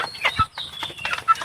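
Medium-sized chickens on a village farm cluck in short, scattered bursts, several calls overlapping at close range over a quiet yard.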